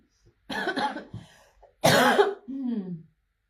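Two bursts of harsh coughing, close and loud, the second a hacking fit that trails off into a low rasp.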